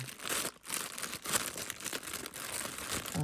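A plastic bag being opened and crinkled by hand in a craft room, close, continuous rustling and crackling with short bursts of louder crumpling, no talk.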